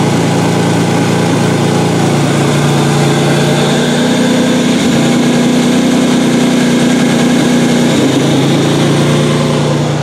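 A truck engine, just rewired after a fuse-box problem, idles loud and close in a steady, unbroken rumble with a constant vibrating hum throughout.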